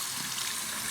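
Water running from a tap to rinse a rock, a steady, even hiss of flowing water that is close and continuous, with no voices.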